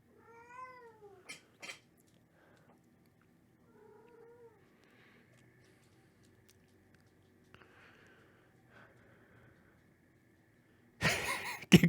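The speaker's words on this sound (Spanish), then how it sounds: "¡Qué cruz de gata!" A cat gives a couple of short meows early on, followed by fainter scattered mews in a quiet room, then a sudden loud noisy burst at the end.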